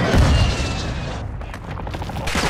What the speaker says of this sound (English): Oh, grenade on me.